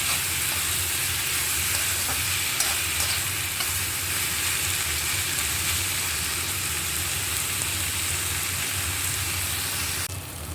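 Finely chopped red tomatoes frying with okra in a spiced masala, loud continuous sizzling with the scrape and shuffle of stirring nearby, no talking.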